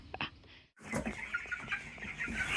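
Chickens cluck close by on pasture in short, busy bursts, a brief gap breaking the sound before the clucking resumes more densely.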